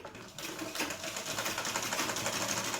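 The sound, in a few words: sewing machine stitching a kids' lehenga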